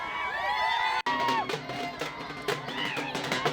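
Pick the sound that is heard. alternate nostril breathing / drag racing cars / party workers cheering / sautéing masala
party workers cheering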